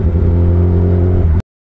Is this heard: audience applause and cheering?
no